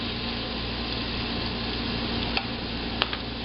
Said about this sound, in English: I'm going to throw in the tilapia